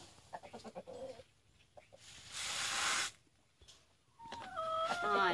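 Backyard chickens cluck in a short burst near the end, following a person's nearby talk and a stretch of soft rustling outdoor noise on a small farm.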